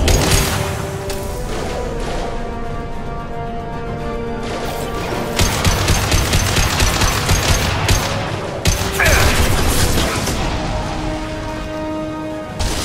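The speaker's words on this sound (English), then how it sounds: "Firing a high impact shot." Rapid gunfire and heavy impact shots in the Mass Effect video game, dense bursts of fire with booming hits over a steady game backdrop and music, growing louder partway through.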